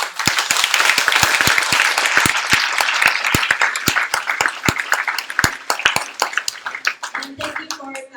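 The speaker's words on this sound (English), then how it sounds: "Perhaps we can give him one more lively round of applause." Lively applause from an audience filling a college lecture room, a sustained roar of many hands with sharp individual claps standing out, fading near the end as voices take over.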